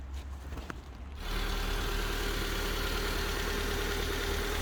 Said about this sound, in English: But now, look at that, it's running perfectly well.